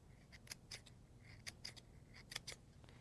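Scissors snip fringe into the paper edge of an owl bag, a series of short, crisp, close cuts with brief pauses between them.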